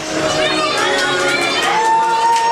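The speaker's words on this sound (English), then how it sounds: "This man comes, every time he comes out, he gets a raucous ovation." A wrestling crowd in Stoke roars in a loud, sustained ovation of cheers and shouts, with a commentator's voice running over it.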